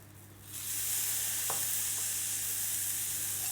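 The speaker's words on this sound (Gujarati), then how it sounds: "ધાણા નાખશું." Coriander seeds tipped into a hot pan for a stuffed bitter gourd (karela) curry, setting off a steady, fairly loud hiss of sizzling that starts after a brief quieter moment and carries on evenly without voices.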